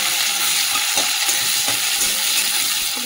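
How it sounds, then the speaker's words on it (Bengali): Chopped onion hits hot oil in a wok with five-spice tempering and a dried red chilli, giving a loud, steady, close sizzle with faint stirring clicks and no talk. "পেঁয়াজ কুচিয়ে রেখেছিলাম, পেঁয়াজটা দিয়ে দিলাম।"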